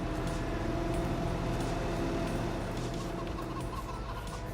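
Chickens clucking in Farming Simulator 22, a dense continuous flock chatter at moderate distance, steady throughout with no talk.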